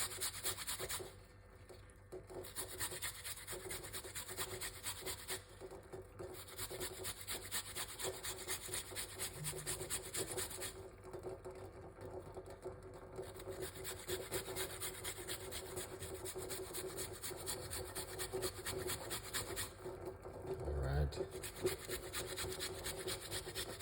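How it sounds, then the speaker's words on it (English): A piece of ginger is rubbed against a grater in rapid, steady back-and-forth rasping strokes, close and continuous with brief pauses, no voices. "Now, let's grate a piece of a ginger."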